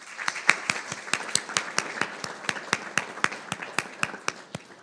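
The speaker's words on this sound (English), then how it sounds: "let's one more round of applause for our Board of Trustees" Sparse, rhythmic clapping at a board meeting honoring the Board of Trustees, a small group's distinct individual claps in a steady beat.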